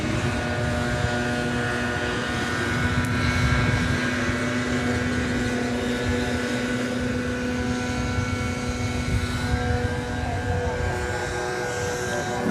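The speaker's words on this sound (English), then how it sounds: "From Dayton, Ohio, comes this American Eagle plane, CRJ 701ER" An American Eagle CRJ 701ER jet at DFW Airport, a steady broad engine roar with a sustained tonal whine, heard at a constant loud level throughout with no voices.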